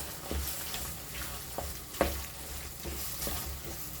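Soy meat curry with black pepper being stirred in a pan, a continuous sizzle broken by several spoon scrapes and knocks, one sharper clack midway.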